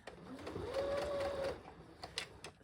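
A sewing machine runs in a short, steady burst as it stitches a half-scale jacket, a quiet mechanical whir with faint clicks before and after.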